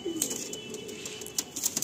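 Pigeons at a loft give soft low cooing under a light, steady background, the calls faint and intermittent across a short stretch with occasional brief higher chirps.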